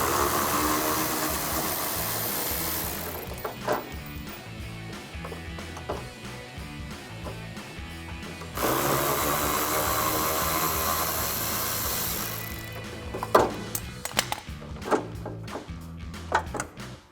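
A power driver with a T30 Torx bit whirs in bursts while backing out headlight bolts on a Dodge Challenger, close and steady with pauses and small metallic clicks between runs.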